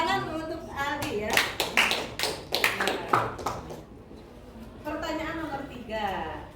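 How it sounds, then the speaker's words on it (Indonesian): A classroom of students claps in a short burst of applause for a classmate's answer, with sharp hand claps between stretches of a teacher talking. "Tepuk tangan untuk Aldi ya."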